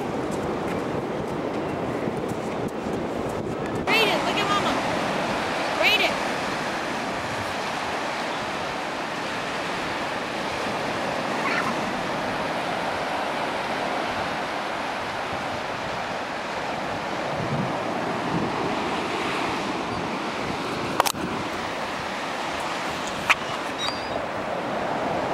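Strong wind at Myrtle Beach: a loud, continuous roar of gusting wind buffeting the microphone, mixed with surf wash, steady throughout with a few brief bumps.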